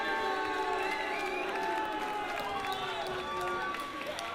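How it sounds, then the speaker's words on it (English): A boxing crowd at a Thriller at the Mill event applauds and cheers as boxer Paul Cummings is introduced, a steady wash of clapping and whoops filling the hall without a break. "Ladies and gentlemen, give him a big, big round of applause one more time."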